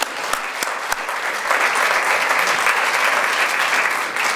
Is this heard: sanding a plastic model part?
no